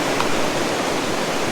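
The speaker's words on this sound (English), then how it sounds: "fill the dirty water bag, allow it to gravity drain to the" Water gravity-draining from a dirty water bag into filters at an overlanding camp, a steady close hiss of flowing, trickling water with no other sound.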